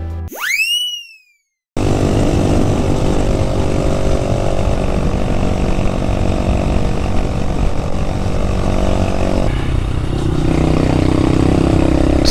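A high whine sweeps briefly, then a Honda Grom motorcycle fitted with a Two Brothers Racing S1R carbon full exhaust system and a restrictor baffle runs at sustained high revs with a buzzy, raspy exhaust tone that continues to the end.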